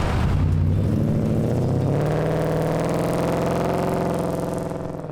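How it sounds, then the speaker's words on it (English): A 1970 Ford F250 truck with full stainless exhaust front to back rumbles loud and close, the engine revving up then settling into a steady, throaty drone. "It's got full stainless exhaust front to back."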